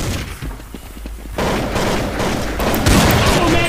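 Rapid bursts of gunfire from the video game Counter Strike 1.6, loud and dense, with fusillade-like firing continuing throughout and swelling in the second half.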